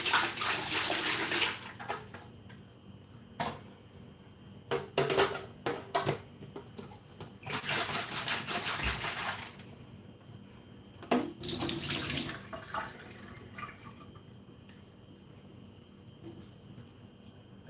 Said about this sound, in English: It's clean, but I still always prefer to still rinse over and over again.